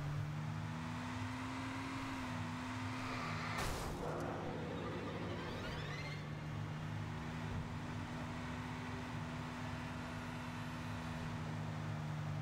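Steady engine drone from a car driven in Alan Wake Remastered, a constant hum with tonal whine throughout. A brief noisy burst around four seconds interrupts it, and the pitch shifts slightly partway through. No talking.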